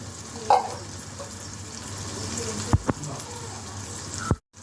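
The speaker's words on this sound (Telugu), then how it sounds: "కరివేపాకు వేస్తున్నాను. కొద్దిగా ఎండిపోయింది. తర్వాత పచ్చిమిరపకాయ ముక్కలు వేస్తున్నాను." Slightly dried curry leaves and chopped green chillies sizzling in hot oil, a close steady crackling hiss with a couple of sharp spoon knocks, ending in a sudden cut to quiet.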